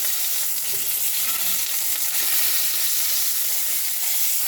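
A steak sears in a hot pan with a constant, fairly loud sizzle and crackle that runs unbroken and close throughout.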